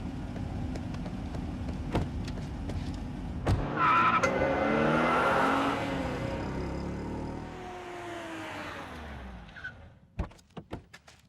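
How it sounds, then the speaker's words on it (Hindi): A car revs and pulls away with a long tire squeal sweeping past at close range, with door thuds and sharp knocks at the start and end. "मैं इस गाड़ी में जा रहा हूँ"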